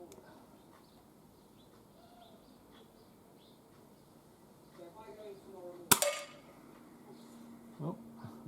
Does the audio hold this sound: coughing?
no